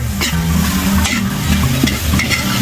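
Vegetables with basil are stir-fried in a pan, a loud close sizzle with repeated scraping and tossing strokes of a spatula throughout, no talking.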